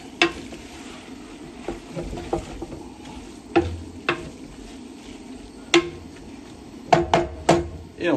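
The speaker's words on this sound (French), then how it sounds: "je rajoute les légumes. Que je mélange bien." Vegetables stirred in a cooking pan, a low sizzling bed broken by repeated sharp clacks and scrapes of a utensil against the pan at an uneven rhythm, close by.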